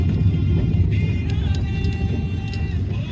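A car rolls along near a beach, its low engine rumble and road noise steady and close throughout, with no clear voices.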